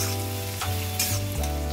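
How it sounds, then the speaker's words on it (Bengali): Garlic fries in a pan with a steady close sizzle and faint stirring scrapes, low in level, continuing throughout with no voices. "রসুনটি ভাজা হয়ে গেছে"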